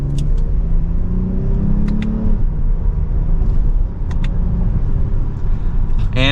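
A 2023 Lexus ES 350 F Sport with a 3.5-liter V6 pulls away hard from second gear in Sport S Plus, engine note rising steadily and loud inside the cabin, with brief tire or road noise and no talk.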